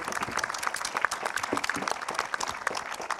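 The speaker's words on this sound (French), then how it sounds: "On peut les applaudir." A studio audience at a televised panel on preventing sexual violence in sport claps steadily, a dense patter of many hands held at moderate, even volume.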